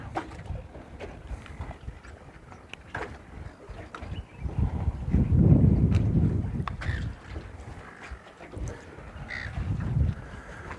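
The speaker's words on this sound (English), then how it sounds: "Are seagulls the most annoying bird in the world?" Seagulls give scattered harsh calls from a distance on a winter bream-fishing outing on the water, mixed with gusting wind and low boat rumble that swells in the middle and near the end.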